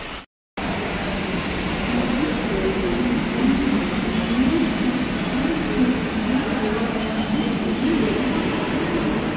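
Steady, loud rumble of trains and station ambience at a metro station in Kerala, continuous after a brief silent gap at the start, with a low rolling drone and no clear speech.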